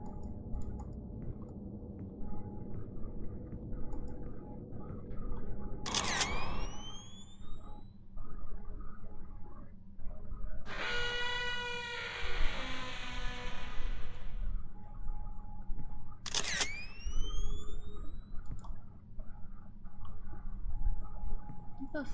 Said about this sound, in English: Push the shutter.